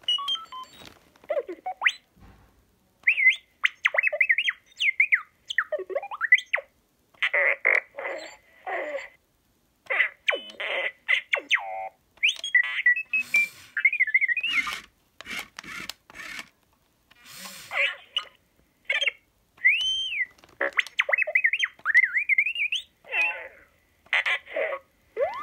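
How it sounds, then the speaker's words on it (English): A Galaxy's Edge droid toy gives off a long run of chirpy, warbling R2-D2-style beeps and whistles, bursts of varied pitch sweeping up and down with short gaps between them, close and fairly loud, with no talking. "In there, he's just gonna sound like R2-D2."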